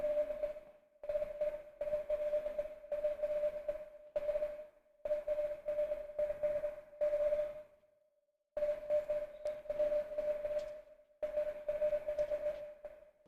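A single steady tone keyed on and off in Morse code bursts, repeated groups of beeps separated by short gaps and a longer pause, clear and alone with no voices.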